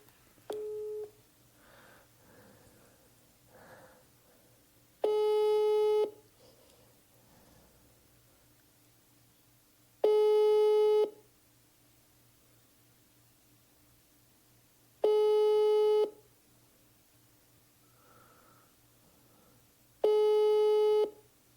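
An unanswered telephone call: four loud, evenly spaced tone bursts about five seconds apart, each lasting roughly a second over a quiet hum, with no one picking up or speaking.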